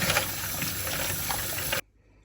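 Rinse water rushes and splashes over fired brass cartridge cases during reloading prep, a close, steady watery wash lasting under two seconds before cutting off abruptly.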